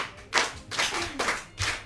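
A small audience claps hands in three or four short rounds of quick, close claps, with brief pauses in between and no voices.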